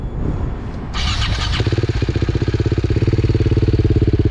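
A BMW G 310 GS motorcycle with an Akrapovič exhaust cranks and catches, then settles into a loud, throaty idle with a rapid, even burbling pulse from the exhaust.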